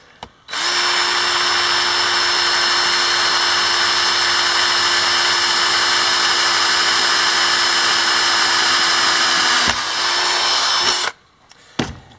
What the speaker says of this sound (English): first I drill a quarter inch hole